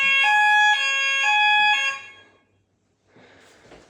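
Fire alarm sounders tested during electrical work, giving loud, piercing, pulsed electronic tones in a rapid on-off rhythm for about two seconds, then cutting out to silence before faint handling noise.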